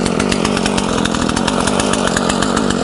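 A ZimAni 450 gasoline chainsaw runs steadily in a spruce forest, its engine a loud, close, continuous buzzing drone with no breaks or voices.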